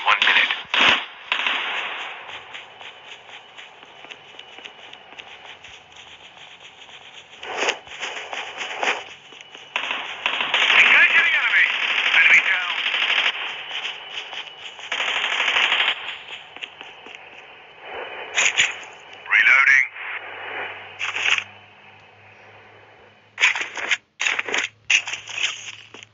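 Gunfire in the Call of Duty battle royale video game comes as scattered bursts of sharp crackling shots. They sound thin and band-limited, with quieter gaps and some louder clusters in between.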